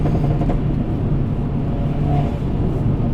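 A loud 240 wheel-horsepower 2018 Hyundai Elantra Sport drones steadily up close on throttle lift-off with a low rumble and faint whir, holding a continuous exhaust note for a few seconds.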